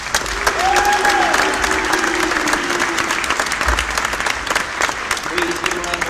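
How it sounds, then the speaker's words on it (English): A crowd in a gym applauds loudly and continuously for senior players and their families at a high school basketball senior night. The applause is a dense wash of clapping and cheering with faint tonal sounds mixed in. "Please give a round of applause for all the senior grade basketball players and their families."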